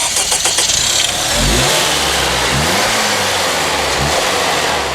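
An Acura 2.3-liter turbocharged i-VTEC engine revs up close and loud, with rising and falling pitch sweeps over a steady mechanical drone.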